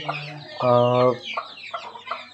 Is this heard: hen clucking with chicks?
yes